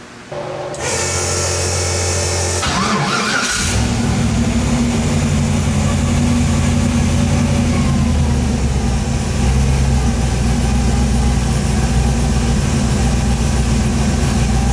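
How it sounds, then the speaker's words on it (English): A Mazda RX-7 rotary engine, just fresh from an oil change, settles into a loud, steady idle after a brief startup burst, droning on evenly up close. "Obviously, I have to let it idle for a little bit"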